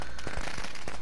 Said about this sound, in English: that's why I don't use those firecrackers